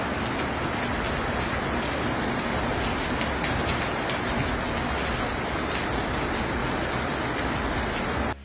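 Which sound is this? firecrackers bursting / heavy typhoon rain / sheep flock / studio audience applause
heavy typhoon rain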